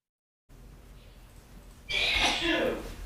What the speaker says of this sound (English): That was an online sneeze.